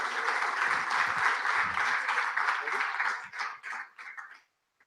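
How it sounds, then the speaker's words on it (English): A convocation audience applauds and cheers in a large hall, a broad sustained wash of clapping that thins into a few scattered claps before stopping. "one round of applause for all of you"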